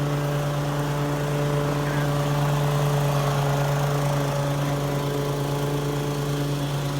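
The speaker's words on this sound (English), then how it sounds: "We'll get some action of the boss mowing the hill." Ferris riding lawn mower mowing a hill: a steady, loud engine drone with a strong low hum and constant blade noise, close by and unbroken throughout.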